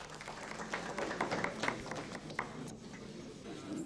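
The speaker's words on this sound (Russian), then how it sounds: "Валентина Пономарева, и ваши аплодисменты ей." An audience at a festive press-club gathering applauds with dense, continuous clapping and scattered louder claps throughout, moderately close.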